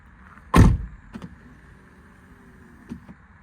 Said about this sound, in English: When you do get in the car, the belt buckler gives you your belt on both sides.